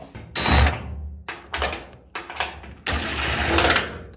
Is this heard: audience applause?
no